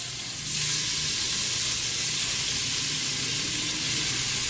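Chunks of ground beef hit hot oil in a pot and burst into a loud, steady sizzle that holds evenly to the end, with no talking.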